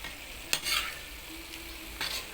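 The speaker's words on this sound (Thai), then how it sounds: "เราก็จะต้องผัด ให้พริกกะเพรามันสุกนะคะ" Green curry chili paste and holy basil stir-fried in a pan, a quiet sizzle broken by a few sharp spatula scrapes and clinks.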